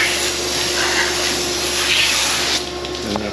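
Steady broadband hiss of water spraying from a hose, rinsing a Porsche 911 after dry ice cleaning, close and continuous, easing slightly near the end.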